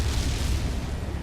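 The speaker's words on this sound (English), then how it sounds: "we need to hit 2 of these fuel gel things, and that will make all of this explode" Fuel gel blows up in Metroid Prime 3, a brief, dense explosive roar with deep rumbling, loud and sustained across the moment.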